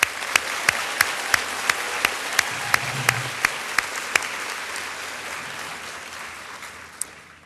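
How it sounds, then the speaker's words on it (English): Parents and students at an eighth grade school ceremony clap for the jazz band, a moderate ragged wash of applause with a sharp regular tapping running through its first half, then trailing off to a lone clap. "You guys, a round of applause for our jazz band, all right?"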